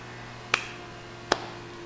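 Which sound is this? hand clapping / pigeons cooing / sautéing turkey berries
hand clapping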